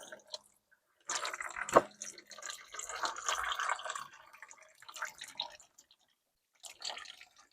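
Oil draining from a 1968 Ford engine, heard as drips and splattering liquid in irregular bursts, close and fairly quiet, with brief pauses between.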